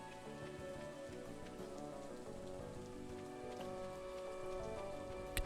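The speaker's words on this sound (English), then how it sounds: "It's raining today on Ginger Island." Steady, faint rain falls on Ginger Island in Stardew Valley, a continuous patter on surfaces with soft game music sustained underneath.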